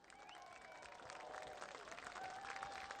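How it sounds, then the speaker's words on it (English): Crowd in the stands at a high school football game, Paragould Rams versus Manila Lions, claps and cheers after the halftime performance, faint and distant, with scattered whistles and voices mixed in. "Give them one more round of applause."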